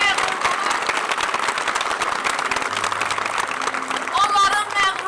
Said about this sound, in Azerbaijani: onları ürəkdən alqışlayasınız